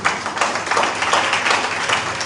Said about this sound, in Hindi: तालियां बजाएं अपने लिए